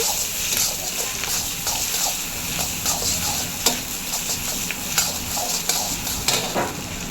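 Chopped beans, carrot, green chilli and capsicum stir-fry for chicken egg fried rice, with a continuous loud sizzle under repeated scraping and clinking from the pan and spatula, close-up and without speech.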